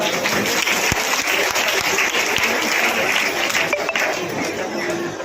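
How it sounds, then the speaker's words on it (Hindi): A crowd of women at a BJP political gathering in Etawah claps loudly and steadily, a thick continuous wave of applause with a few sharper claps standing out, and faint murmuring underneath. "आप कृपया करके इनके लिए ताली बजाइए।"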